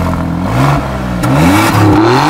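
A 510-horsepower Alfa Romeo Giulia engine revs up and down in quick pulses, with a deep, throaty exhaust note rising and falling close by.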